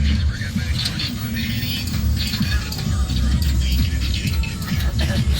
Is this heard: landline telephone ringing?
no